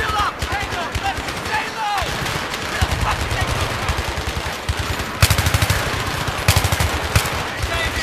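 Rapid automatic rifle fire and scattered single shots in Battlefield 3, played on ultra settings, crackle in loud bursts over ongoing combat noise, with a voice talking underneath.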